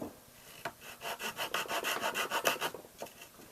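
Small saw cutting a narrow slot into a wooden kirar tailpiece, a close run of quick rhythmic rasping strokes after a couple of isolated scrapes, with no voices.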